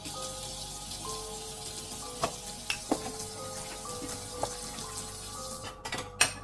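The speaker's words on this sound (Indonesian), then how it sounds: "Sembari mencuci piring" Dishes washed at a kitchen sink beside a well: running water hisses steadily while plates and utensils clink and knock in scattered sharp taps, louder clatter near the end.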